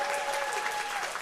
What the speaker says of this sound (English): give a round of applause for these panelists right here